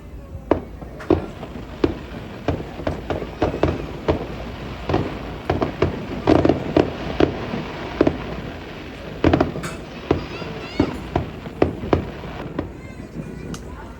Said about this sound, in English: Fireworks show from the balcony.